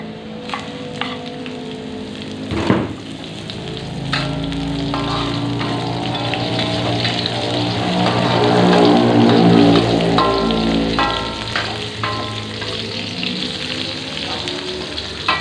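Chili sizzling and being stirred in a hot pan of oil for a stir-fried green eggplant dish, a steady loud frying hiss with occasional spatula scrapes, close up and without talk.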